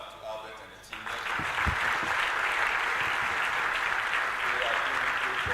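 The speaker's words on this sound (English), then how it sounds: "Help me give a big clap to Albert and the team." Loud, sustained applause from a summit audience at a university in Cape Coast, starting abruptly after a moment of speech and continuing steadily as a dense crowd clap.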